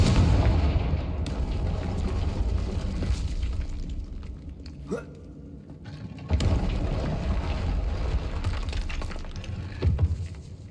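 A Confringo fire spell goes off in Hogwarts Legacy, giving loud booming blasts over a constant rumble, with a strong burst near the start, another around the middle and a smaller one near the end.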